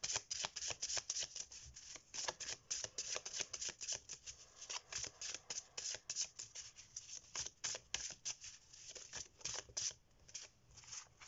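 A deck of tarot cards is shuffled up close, a rapid, continuous riffle of crisp flicks and slaps lasting about eleven seconds, with no talking.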